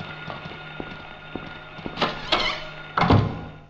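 A door lock being worked open in Silent Hill, with a few quiet taps followed by heavier mechanical clunks and a solid thunk at the end, close and alone.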